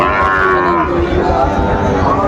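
A young Sahiwal bull calf moos loudly and continuously, a long drawn-out bellowing call with a rough, throaty tone, close by and alone.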